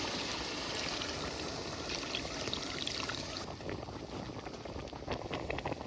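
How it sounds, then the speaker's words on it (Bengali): Milk simmering with fried chicken in spiced biryani masala, a steady close bubbling and hissing wash that runs evenly throughout with no talk. "এখন সেদ্ধ হওয়ার জন্য দুধ দিয়ে দেবো।"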